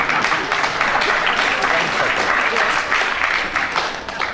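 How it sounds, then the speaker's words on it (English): A studio audience at a BBC Radio 4 comedy panel show bursts into sustained, lively applause that fills the whole stretch before tapering slightly at the end. "I think from the applause that the audience agrees with you."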